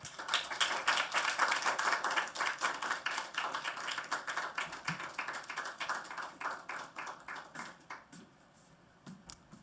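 Church congregation at a Sunday worship service clapping to welcome a missionary to the pulpit, a quieter, thinner patter of hands that fades toward the end, with no voices.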